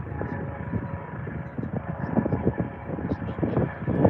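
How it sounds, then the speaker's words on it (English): A helicopter in training flight over Blackpool, a loud low rumbling rotor throb with rapid pulsing beats, steady and growing slightly toward the end. "That helicopter is getting louder."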